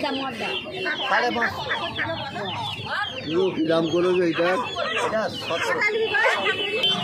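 Chickens clucking and squawking in a crowded hen market at Uluberia, a steady busy chorus of fowl calls close by, with people chattering underneath.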